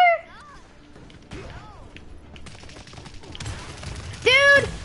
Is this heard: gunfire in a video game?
yes